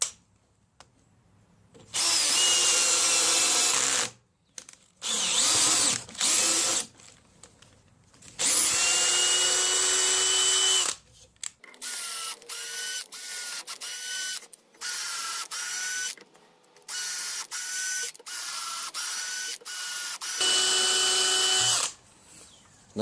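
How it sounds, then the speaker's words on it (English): A power drill drives a tap to cut threads into plastic while a Ridgid 4x6 bandsaw is being refurbished. It whines loudly in repeated bursts, sometimes long and sometimes stuttering in short pulses, with quiet pauses between runs. "I'm going to tap the plastic out here."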